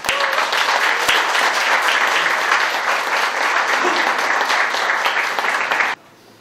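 Sustained applause from a large crowd, dense and steady, ending abruptly.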